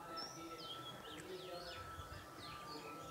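Small birds chirp from a nest in a hole in a house wall, with thin repeated tweets and trills over steady low background noise, moderately near.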